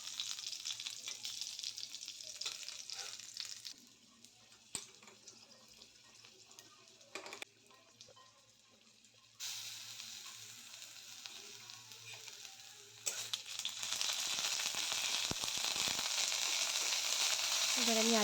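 Ginger paste fries in mustard oil with spices and green chillies while being stirred, a close sizzle that fades down through quieter stretches with brief scraping stirs, then swells again into a loud, dense hiss toward the end.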